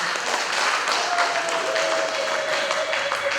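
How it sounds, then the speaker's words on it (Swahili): A church congregation in Chunya applauds during a Sunday service, a steady wash of many hands clapping from a mid distance, with a faint tone running through and no clear talk. "Basi naomba tuongeze makofi mengi"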